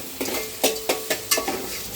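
Onion and tomato masala sizzles in a pan while a spatula stirs it in about five sharp, regular scraping strokes over a soft, continuous frying hiss.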